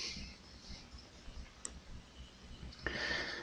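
A computer mouse gives a single crisp click, close and fairly quiet, with a few soft ticks and light rustling around it.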